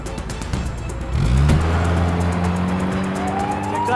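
A car speeds away from a police checkpoint in a Turkish TV drama, its engine roaring and revving up loudly with a rising tone, accompanied by a tire squeal, against a tense background.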